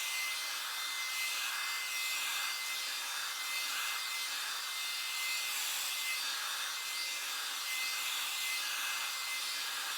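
Hair blow dryer running on low heat, a steady, continuous airy whoosh with a bright hiss that stays even and close for the whole stretch, with no voices.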